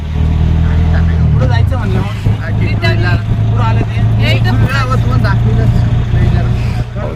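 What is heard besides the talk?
auto rickshaw ride, engine running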